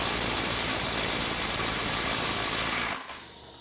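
Milwaukee 12V cordless power tool torquing a fastener to 300 foot-pounds, a loud steady mechanical rattle lasting about three seconds before cutting off abruptly into quiet.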